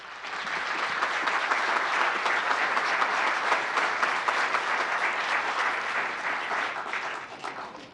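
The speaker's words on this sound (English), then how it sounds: "Big round of applause for this group." A crowd at an Operation Welcome Home ceremony in Gilbert, Arizona, claps steadily for the returning group, a full, even roar of many hands that swells in and tapers slightly at the end.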